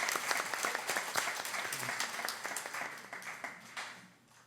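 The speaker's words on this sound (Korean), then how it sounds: "큰 박수 해주시겠습니다." A church congregation claps during a Sunday service, a crisp, busy burst of many hands that stays lively before tapering off softly near the end.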